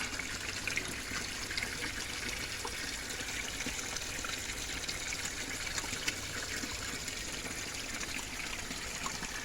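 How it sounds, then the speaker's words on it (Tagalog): Water trickles from a tube rigged up at a community water source outdoors, a soft, steady, fairly faint flow running continuously with no talking. "ginawan ng mga tao dito yung parang tube para mapagkunan ng water"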